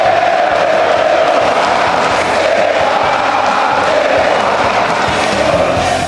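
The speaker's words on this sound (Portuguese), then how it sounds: "É a torcida curtindo esse início do Pepa." Cruzeiro football fans in a stadium, a dense continuous roar of crowd cheering and chanting, loud and distant-filling, with no break over several seconds.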